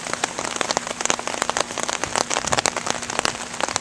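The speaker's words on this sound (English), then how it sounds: "It still is rainy here in College Park." Steady rain falls during a thunderstorm in College Park, pattering densely on nearby surfaces with sharp drips mixed into a close, continuous hiss.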